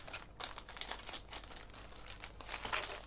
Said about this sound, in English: So I have these sandwich bags, resealable sandwich bags, and I'm going to pop the Darkslide holder inside there